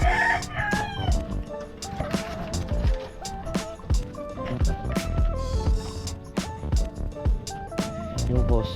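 A rooster crows repeatedly at a Filipino home with a yard, its calls loud and close amid busy background noise with sharp knocks, and voices talk throughout.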